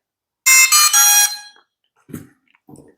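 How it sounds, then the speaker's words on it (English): A loud, high electronic beep pattern from a Ruko F11PRO 2 drone waiting to pair with its controller rings out for about a second, followed by a couple of faint clicks and soft noises. "it'll start beeping and flashing because it's waiting to pair with the controller"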